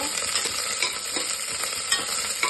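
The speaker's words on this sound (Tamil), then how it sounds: "வெங்காயம்லாம் நல்லா வதங்கணும்." Onions sautéing over a high flame in a pot for one-pot sambar rice, a steady close sizzle with occasional stirring scrapes, no talk.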